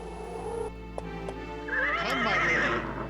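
A horse whinnies in the video game King's Quest VII: a rising, wavering neigh in the second half, preceded by a sustained tone and two soft clicks over a steady game music drone.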